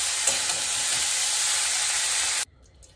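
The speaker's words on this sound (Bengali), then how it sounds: "এদিকে কিন্তু আমার ব্রোকলিটা ভাজা ভাজা হয়ে এসছে।" Steady, loud sizzle of broccoli frying in a pan, continuous for over two seconds before cutting off abruptly into quiet.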